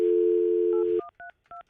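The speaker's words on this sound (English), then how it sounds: "let me get Michelle on the phone." Telephone tones ring out alone: a long steady dial tone for about a second, then three short separate dialing beeps in quick succession as a number is keyed in on a live morning radio show.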